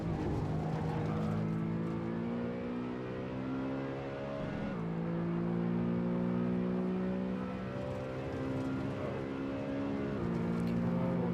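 BMW E92 M3 V8 engine revving hard on a hot lap of the Nürburgring, a loud sustained roar with rising pitch sweeps through the gears and a brief dip at a downshift near the middle.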